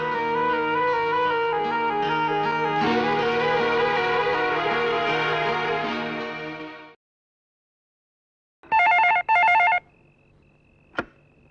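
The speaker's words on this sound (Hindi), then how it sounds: "भैया आपके लिए फोन है।" In a 1994 Hindi film scene, a sustained musical passage fades to silence, then a telephone bell rings in two quick, loud bursts, followed by a faint lingering tone and a single click.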